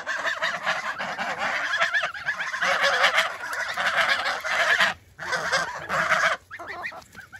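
A flock of geese honking loudly and close by on a garden plot, a dense chorus of overlapping honks with a couple of brief pauses.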